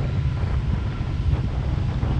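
Cold wind gusting steadily across an open excavation site beside a muddy pool, a continuous low rumbling buffet close on the microphone with no voices.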